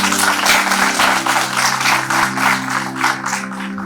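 An audience at a talk by a writer and musician breaks into loud, close applause, a dense rattle of clapping hands that holds steady throughout, with a low sustained tone humming underneath.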